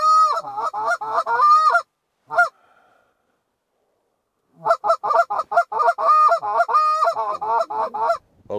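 Geese honking loudly during a goose hunt, repeated bursts of overlapping calls from a close flock with a brief pause mid-way before the clamor resumes.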